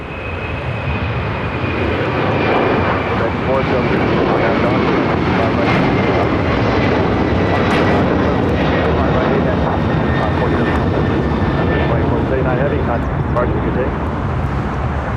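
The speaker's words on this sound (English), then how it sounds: "The flight heading to Lima 767 now taking off." A LATAM Boeing 767-300ER takes off from LAX bound for Lima, Peru, its engines a loud, sustained roar laced with a slowly falling whine that holds steady throughout.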